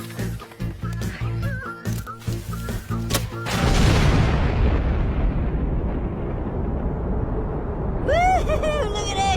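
Fireball fireworks set off into a bucket of gasoline at a Fourth of July celebration, with rapid popping bursts followed by a loud sustained roaring blast, then crackling as people shout.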